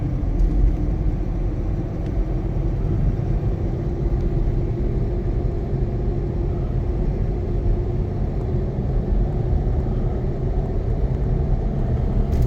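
Car rolling along a country road on a hot day, its steady engine hum and low road rumble filling the cabin continuously at an even level with no voices.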